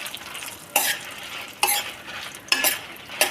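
Moringa leaves being dry-roasted and stirred in a pan over low heat for a spice powder, with four distinct scraping stir strokes over a faint continuous sizzle, close and fairly loud, no talk.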